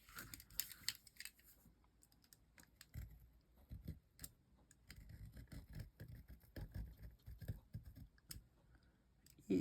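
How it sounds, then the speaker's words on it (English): Small scissors trimming paper for a craft page, a quiet close series of irregular snips and clicks with soft handling rustles between them, faint overall. "I'll just take a little scissor and trim that up a bit"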